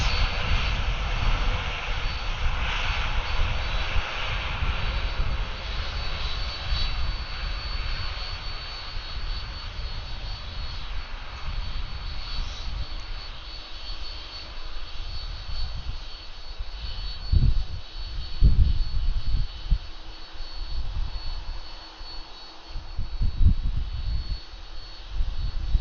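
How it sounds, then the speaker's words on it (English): An Airbus A330 with Rolls-Royce Trent 700 engines takes off at Atlanta airport, its jet engines roaring in a long, steady, moderately distant rumble that swells and surges toward the end. "Loud Rolls-Royce Trent 700 engines."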